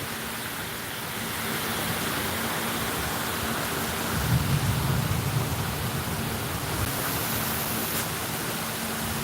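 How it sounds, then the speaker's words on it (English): Heavy rain pours in a dense, unbroken roar during Hurricane Milton, with a low rumble of thunder swelling in the middle, loud and close outdoors. "the thunder has not stopped."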